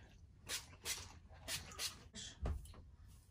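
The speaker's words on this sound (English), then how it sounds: "I'm gonna spray it with my Pantene primer" Several short hissing bursts of Pantene primer spray onto hair extensions, close and crisp, in a quick uneven series with brief pauses between them.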